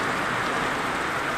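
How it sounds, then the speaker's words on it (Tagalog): Heavy rain from Typhoon Goring pours steadily, a dense, continuous hiss of downpour with no breaks, loud and close. "buhos ng ulan na dulot po ng bagyong Goring"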